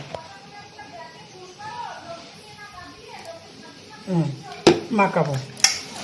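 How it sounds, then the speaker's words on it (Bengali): Mutton tossed and mixed by hand with mustard oil and dried red chillies in a bowl, giving soft wet squelches and clinks that grow louder toward the end, with a voice talking over it. "এইবার এটাকে ভালো করে একটু সর্ষের তেল দিয়ে মাখাবো"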